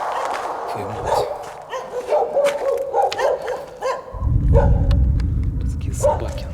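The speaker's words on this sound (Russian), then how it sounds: "Такие собаки." Dogs guarding an abandoned site at night bark in several sharp bursts at a distance. A heavy low rumble sets in partway through.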